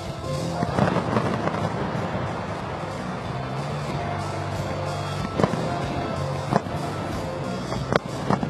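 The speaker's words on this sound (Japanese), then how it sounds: "5回終わって花火の打ち上げです。" Fireworks launch from behind the third-base stands at a Buffaloes versus Eagles baseball game after the fifth inning, a steady crackling, rumbling roar punctuated by several sharp, distinct bangs near the end.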